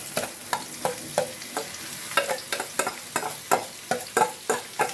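Onion frying in a pan for chana masala, a close sizzle with quick, regular scraping strokes of a spoon stirring throughout, no talking.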